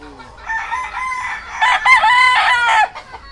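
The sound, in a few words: rooster crowing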